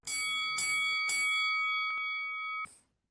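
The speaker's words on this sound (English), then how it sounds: "let's ring the bell and let's bring those fantasy wrestlers to the ring." A wrestling ring bell is struck three times in quick succession, each clang ringing out bright and metallic. A clear tone lingers and slowly fades before cutting off, followed by a brief click at the end.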